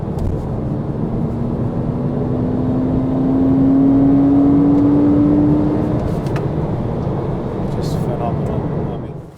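A mid-engine Porsche Cayman revs steadily and builds to a sustained high-pitched whine mid-clip before easing off, loud and close, with a smooth continuous drone.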